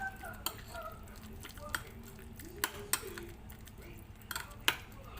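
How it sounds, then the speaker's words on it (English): Marinade ingredients for fish biryani are stirred together in a bowl, with soft scraping and a few sharp clinks of a utensil against the side, quiet and close. "So we have to mix this all together."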